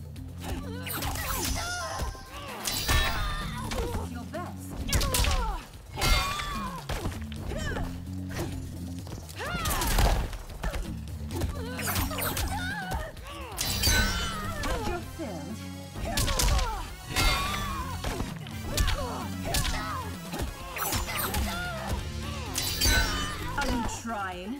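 Hits land in a Mortal Kombat 11 fight, with loud smacks, crashes and thuds coming in quick clusters throughout, mixed with grunts and announcer-style voices talking over the action.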